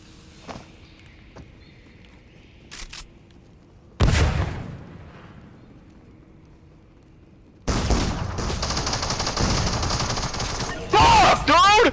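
Video-game gunfight with shotgun fire: a sharp loud blast, then a sustained burst of dense gunfire and impacts through the second half, with scattered game sounds before it.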